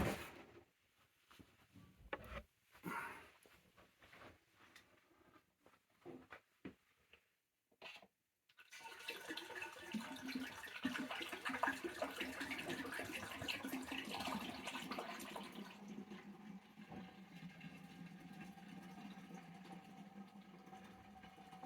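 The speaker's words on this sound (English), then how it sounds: "as you're pouring in the cider, it really helps to mix it" Cider pours into a fermenting vessel that already holds yeast, a steady close rushing pour lasting several seconds after a stretch of scattered handling knocks and clatter.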